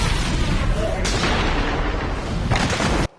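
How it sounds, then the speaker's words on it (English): Rocket launcher fire booms through a Star Wars Rebels battle scene, two loud blasts roughly a second and a half apart over dense continuous combat noise, ending in an abrupt cutoff. "Bobby, rocket launcher!"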